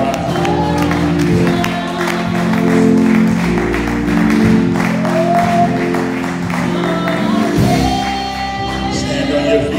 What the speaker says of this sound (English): Clap your hands, everyone.